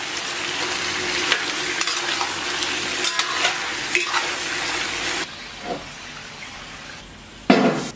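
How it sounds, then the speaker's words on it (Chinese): Blanched beef is stir-fried in a hot wok, with a continuous loud sizzle and stirring scrapes that drop off partway through, followed by a short clatter near the end. "然后把焯好的牛肉下到锅中，简单煸炒一下"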